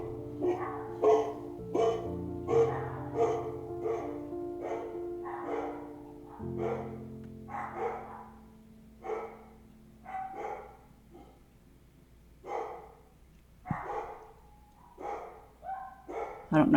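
Several dogs bark in irregular bursts at a moderate distance, with a low steady hum running underneath.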